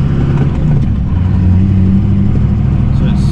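A Duramax diesel pickup truck driving on the road, its engine a steady, loud low rumble with a continuous drone throughout, heard from inside the cab.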